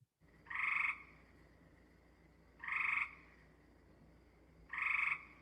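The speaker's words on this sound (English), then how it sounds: "Now I'll play the gray tree frog for you first." A gray tree frog gives three short, trilled calls in steady succession, each a flat-pitched burst of rapid pulses about half a second long, fairly close and clear over a faint background.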